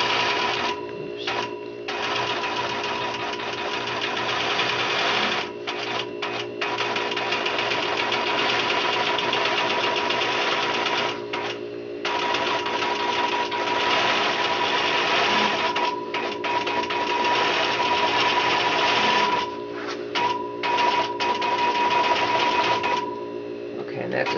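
A longarm quilting machine stitches in the ditch around quilt blocks in a home studio, its fast mechanical whir running steadily with several brief stops and restarts as direction changes.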